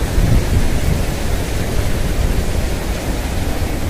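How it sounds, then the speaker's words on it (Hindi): A loud rushing river fills the air with a steady, roaring wash of water that stays constant and close throughout, with no voices above it. "क्योंकि नदी की आवाज़ काफ़ी ज़्यादा तेज़ है"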